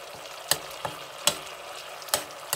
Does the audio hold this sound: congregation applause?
no